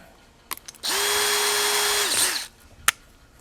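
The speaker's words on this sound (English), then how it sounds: "I'm going to come in with the minor diameter drill first. We're going to use the long drill bit" A brief close-up burst of a power drill whirring at a steady pitch for about a second and a half with a long drill bit, boring into a rifle stock, bracketed by small clicks and knocks.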